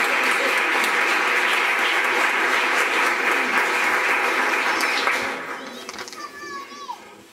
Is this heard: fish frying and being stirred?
no